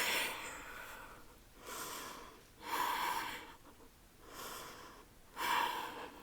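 Deep breaths taken during a flowing yoga practice, in five slow rounds of breathing with pauses between them, close and fairly quiet with no talking.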